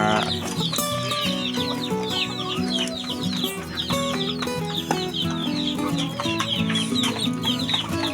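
A backyard flock of free-range Shamo chickens, some with Aseel blood, clucks and chatters busily at feeding time, many overlapping calls held steadily at a moderate level throughout.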